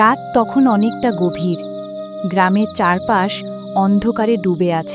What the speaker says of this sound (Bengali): শুধু ঝিঝি পোকার ডাক